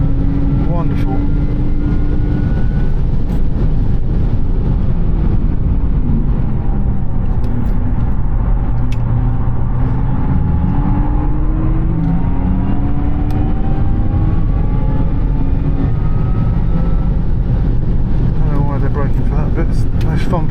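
A Porsche Taycan electric car laps the Silverstone circuit with a rising and falling electric motor whine over steady road rumble and wind, while people talk over it throughout.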